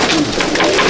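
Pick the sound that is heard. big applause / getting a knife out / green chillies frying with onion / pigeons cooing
pigeons cooing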